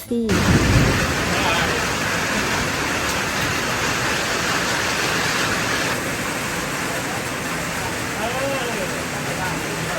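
Steady broadband rain pours on a rural Phu Thai homestead at Khok Nong Na, a dense continuous hiss filling the whole stretch with a brief thump at the start and faint voice-like tones near the end.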